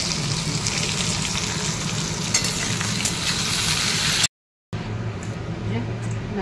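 Potatoes and okra frying in a pan, a loud, even hiss of sizzling oil with stirring, cut by a brief dead gap near the end before the sizzle resumes; some voice-like sound is mixed in.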